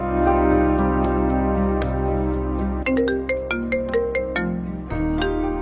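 A mobile phone rings with an incoming call: a loud, close melodic ringtone plays sustained tones at first, then shifts into a run of quick plucked notes, with no voices over it.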